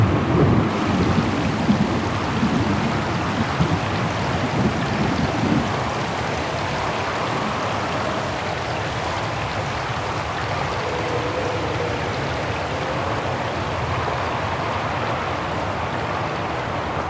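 A loud, steady thunderstorm with heavy rain hisses without pause in the video game Syberia: The World Before, low thunder rumbling underneath throughout.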